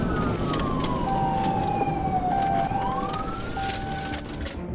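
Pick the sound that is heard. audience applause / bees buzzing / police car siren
police car siren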